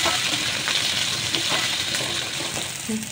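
Onion, ginger and garlic fry in a pan for a Maharashtrian katachi amti, giving a dense, steady sizzle with light stirring scrapes, close and loud throughout, with no voice.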